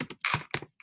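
Keyboard typing in short bursts of clicky keystrokes, close and fairly loud, with brief pauses between clusters of key presses.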